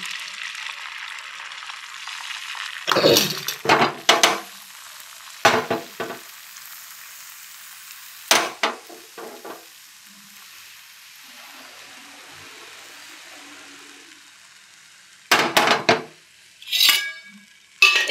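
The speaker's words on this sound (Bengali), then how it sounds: "ডিমের অমলেটটা করতে চলে এলাম" An egg omelette fries in a pan, with a soft steady sizzle beneath several sharp bursts of scraping and clattering from a utensil against the pan, spread across a quiet kitchen.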